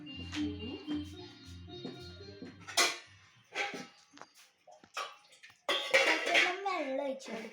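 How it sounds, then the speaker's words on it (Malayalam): Water pours into a cooking pot with a rising, filling tone near the end, preceded by clinks of utensils, while a person speaks intermittently nearby. "കുറച്ച് വെള്ളം ഒഴിക്കുക."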